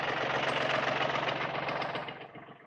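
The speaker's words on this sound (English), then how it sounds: "if you have a tractor and you get yourself an auger, or you borrow an auger" A tractor-mounted auger's engine runs steadily while it drills a post hole for a pole barn, a loud, continuous mechanical drone that slowly eases off toward the end.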